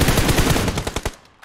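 Rapid automatic gunfire in a video game, a loud, close burst of fast shots that thins into a few spaced cracks before fading.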